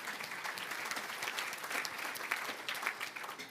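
Audience clapping at a lunch event for a women's sport conference, a steady, dense wash of many hands that holds evenly throughout at moderate distance.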